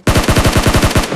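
A rapid burst of automatic gunfire from the BGMI mobile battle royale game, about a dozen loud, close shots in an even, fast rhythm with no talk.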